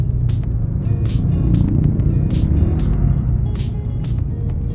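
A Honda Beat motorcycle with a JVT Silent Killer exhaust pipe runs with a steady, loud, low engine rumble. The drone is continuous and close, with no talk over it.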